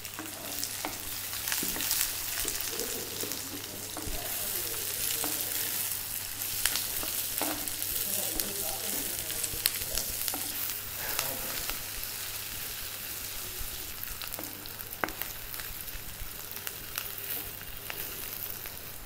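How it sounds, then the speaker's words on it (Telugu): Chopped onions fry in hot oil in a pan after green chillies for a traditional drumstick and chickpea curry, a steady dense sizzle with occasional stirring scrapes throughout. "తరిగిన ఉల్లిపాయలు వేసుకుందాం"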